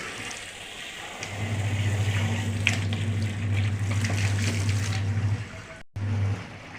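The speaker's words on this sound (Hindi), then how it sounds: "पहले ड्रायर में चला दूँ पानी, इतना कपड़े सूख जाएंगे" Water running steadily into a washing machine's dryer drum at home, a continuous gushing flow with a low hum, near and fairly loud, briefly cutting out near the end before resuming.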